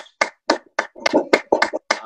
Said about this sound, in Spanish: yo les voy a pedir que les demos un aplauso a estos